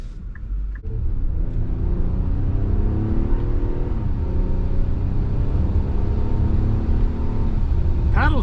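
A 2024 Nissan Pathfinder Platinum 4x4 with a nine-speed transmission accelerates through paddle-shifted gears, its engine rising in pitch and dropping briefly at each shift, a steady rumble from inside the cabin.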